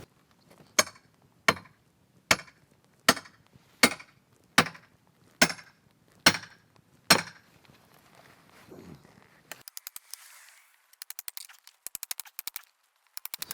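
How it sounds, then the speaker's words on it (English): Pallet wood being dismantled with a small sledgehammer, wrecking bar and nail remover in cold weather: a steady series of nine sharp, evenly spaced knocks, followed by quieter scraping and a burst of rapid light clicks and taps. "So the classical combo, the little sledgehammer, the wrecking spar and the nail remover."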